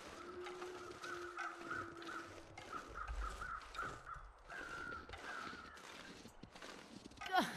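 Crows caw repeatedly in a snowy survival game, a string of harsh calls spread across the clip over quiet wind and faint footsteps, with a steady tone sounding briefly early on.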